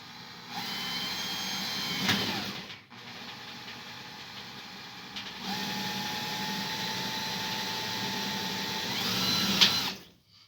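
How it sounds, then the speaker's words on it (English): A power drill drives a screw into the top of a support, whirring in two steady close bursts separated by a short pause, with a brief click near the end. "I'll put a screw on the top here."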